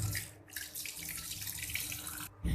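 Running tap water pours over chicken liver in a mesh basket for rinsing, a steady close splashing hiss with brief breaks as the flow is interrupted.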